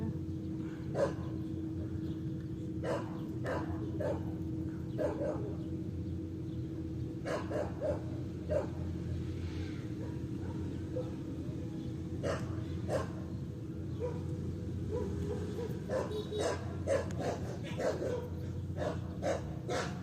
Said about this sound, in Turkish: Bu tatlı köpekleri.